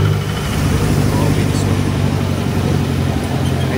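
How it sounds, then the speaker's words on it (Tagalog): A jeepney engine drones steadily while riding in the front seat on a drizzly, overcast day, a loud low rumble heard continuously with a voice talking over it. "Medyo maingay nga lang kasi syempre makina ng jeep Yan."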